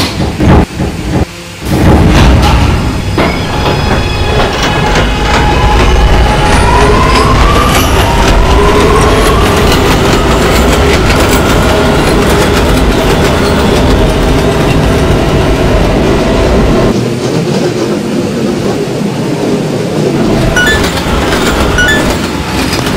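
An R211A subway train on the A local line in Roblox runs at steady speed, with a loud continuous rumble, rising motor whine and rattling wheel noise filling the whole stretch before easing slightly near the end.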